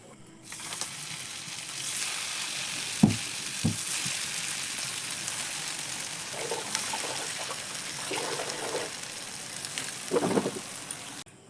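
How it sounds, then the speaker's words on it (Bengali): Snacks deep frying in hot oil during home cooking, a steady sizzling hiss with scattered pops and crackles throughout, fairly close and continuous. "আর বাকি যতটুকু আছে একইভাবে আমি ভেজে নেব,"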